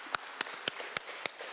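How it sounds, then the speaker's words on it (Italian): Slow, evenly spaced hand claps ring out in a TV studio during a bridal atelier competition show, about four crisp close claps per second over a faint room hum. "Io faccio intanto un applauso."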